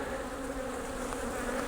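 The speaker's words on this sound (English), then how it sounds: "Man, that's a lot of bees." A dense, steady hum of many honeybees buzzing close by around a hive, with no break over the short stretch.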